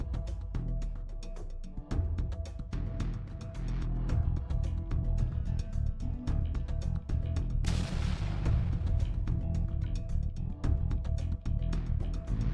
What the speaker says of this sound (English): Immediately, there is a deafening bang, and the strong blast wave destroys the entire building, and the wall is instantly scattered.